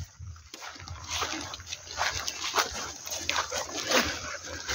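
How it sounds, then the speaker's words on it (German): Dogs splashing about in a pond, with scattered splashes, sniffing and a brief whimper or grunt close by over light outdoor background noise. "Ich glaube, sogar die Hunde fischen da ein bisschen."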